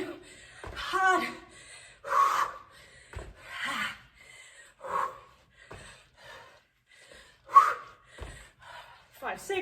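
Heavy, rasping breaths come in uneven bursts with pauses between, close by, like someone panting after a HIIT workout.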